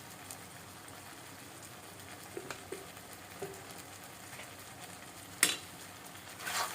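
Chili powder and coriander powder are stirred in a pan of hot oil for a Telugu vankaya tomato egg curry, giving a quiet, steady sizzle broken by a few soft scrapes and clinks from the spoon.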